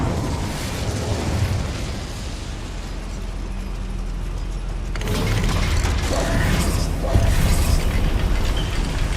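A fire spell cast in the video game Hogwarts Legacy, a loud crackling, rushing burst that swells midway and keeps roaring over dense game noise.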